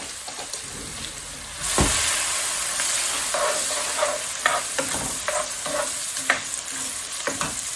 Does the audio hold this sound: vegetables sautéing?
yes